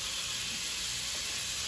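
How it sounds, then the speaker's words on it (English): Minced garlic sizzles in melted butter in a pan while being cooked for steak and potatoes, a steady close bright hiss running alone and unbroken throughout. "So we're gonna cook this garlic in that butter until it's nice and fragrant, but not browned or burning."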